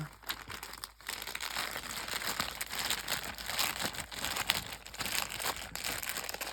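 Continuous crinkling and rustling of a plastic bag holding craft supplies, close and fairly steady, with brief pauses and no voices.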